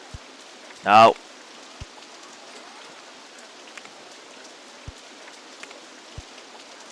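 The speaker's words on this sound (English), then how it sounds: "it's still raining" Steady, soft rainfall from the OpenRCT2 theme-park game forms a faint, even hiss throughout, with a brief spoken word near the start and a few scattered soft clicks.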